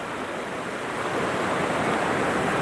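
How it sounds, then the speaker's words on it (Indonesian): Ocean surf rolls onto a tourist beach, a steady broadband wash of breaking waves with some wind, loud and continuous throughout with no voices. "inilah pantainya"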